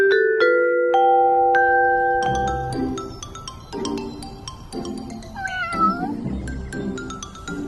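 A cat meows in a few drawn-out, rising and falling calls near the end, heard close over a steady bed of background music with no talking.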